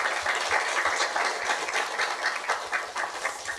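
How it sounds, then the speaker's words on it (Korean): An audience, likely a church gathering, applauds in a steady, dense patter of many hands clapping together throughout, fairly loud and continuous with no voices over it. "우리 박수 한번 해주실래요?"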